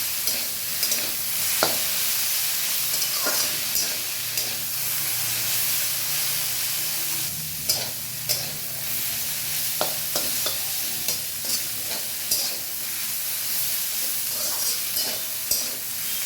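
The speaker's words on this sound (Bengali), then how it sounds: "একদম ঝরঝরে করে ভাজতে হবে।" Bottle gourd greens frying in a wok on a low flame: a soft, continuous sizzle broken by repeated sharp scrapes and clacks of stirring at irregular intervals, close and unaccompanied by talk.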